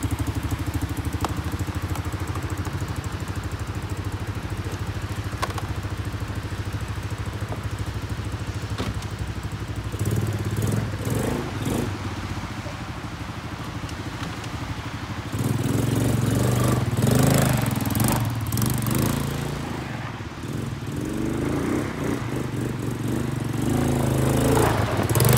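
Avantis Hunter 8 ATV engine running steadily through a ride, a loud close mid-pitched drone that rises and surges as the throttle opens, with rattles and clatter from the machine and no talk.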